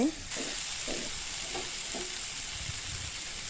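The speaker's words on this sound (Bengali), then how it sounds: "এঁচড়টাকে ভালো করে মশলার সঙ্গে মিশিয়ে" Young jackfruit is stirred into fried spice masala with coconut and nuts, giving a constant hissing sizzle with a few rhythmic spatula scrapes near the start.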